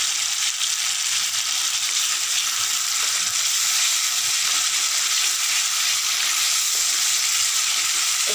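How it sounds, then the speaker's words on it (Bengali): Ground cumin, coriander and salt are sautéed in oil in a pan, giving a loud, dense, unbroken frying hiss close to the microphone, with light stirring underneath and no speech. "তার অনুযায়ী কষাচ্ছি ভালো করে কষানোর জন্য"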